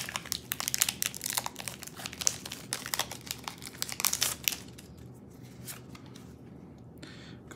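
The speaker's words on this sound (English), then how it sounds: "These packs do not want to open." Foil Pokémon Burning Shadows booster pack being torn open, a stubborn wrapper giving a run of close, dense crinkling and tearing for about four seconds before quieter rustling and card handling.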